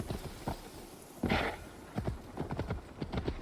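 Horse hooves clip-clop in Assassin's Creed Valhalla, a steady walking rhythm of close, moderately loud steps with a brief louder burst partway through.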